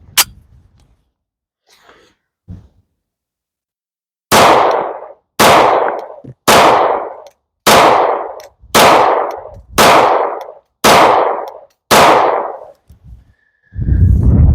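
A 1911 Officer pistol fitted with an X Grip adapter and a full-size magazine fires eight loud, sharp shots at an even, steady pace, preceded by a few faint handling knocks, with no talking.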